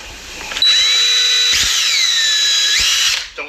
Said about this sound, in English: I'm just going to drill a hole in here